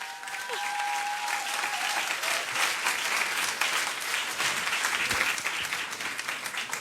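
An audience applauds at a NASA news conference after the Curiosity rover landing on Mars, steady sustained clapping from a sizable crowd filling the room throughout.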